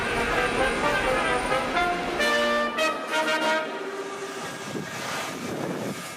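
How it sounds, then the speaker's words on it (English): A steam locomotive stands at a Moscow station platform, giving a steady hissing rumble with a tonal, whistle-like ring in the middle, fairly loud and continuous. "the romantic sound of steam engines lingers in the air."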